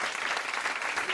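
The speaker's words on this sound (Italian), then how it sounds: "grande applauso" Brief burst of audience applause at a poetry event, a dense even patter of many hands clapping.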